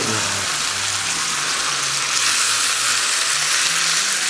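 Cumin, Aleppo pepper, turmeric and paprika frying in a pan for chicken korma, a loud steady hissing sizzle with faint stirring underneath, continuous and close.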